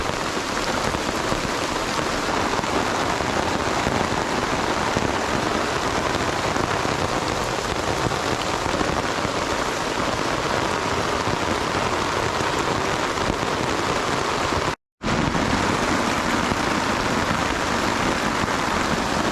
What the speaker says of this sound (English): We're dealing with pretty heavy rain right now because that cup filled up in under a minute.